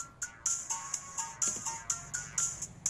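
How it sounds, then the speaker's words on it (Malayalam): A telephone rings with a repeated electronic ringtone in a 2003 Malayalam film, its short bright pulses recurring in quick, regular succession at moderate volume with no one speaking. "ആർതി, ഫോൺ."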